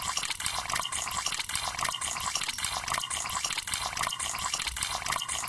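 Water in the video game Misao washing blood away, a loud, continuous gushing flow like a running tap, with soft regular pulses repeating through it and no voices.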